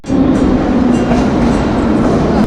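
A metro train rides through Novosibirsk with a loud, steady rumble and rushing roar, heard from inside the carriage with no pauses.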